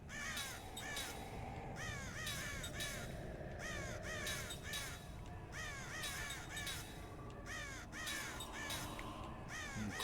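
Crows caw repeatedly in the video game Lost Odyssey, harsh calls arriving in clusters of two or three over a steady rumbling background, loud and close with no talk.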